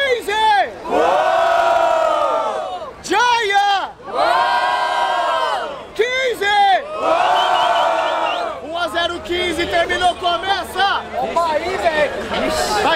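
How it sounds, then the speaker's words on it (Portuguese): A crowd at a Brazilian freestyle rap battle, the Batalha da Aldeia in Barueri, São Paulo, roars and chants in loud rhythmic bursts of cheering and shouting, with excited chatter underneath as it settles. "Barulho para as rimas do Jaya Luke."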